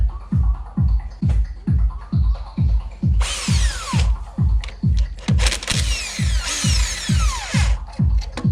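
A power drill chatters in steady, rapid repeated bursts, close and loud, with brief higher whining stretches as the bit bites, drilling holes on a Chrysler 300 SRT-8 during a supercharger install.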